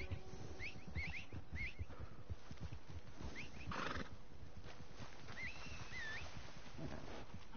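A horse whinnies several times over steady Red Dead game-world ambience, with faint hoof clatter and birdlike calls scattered through the background.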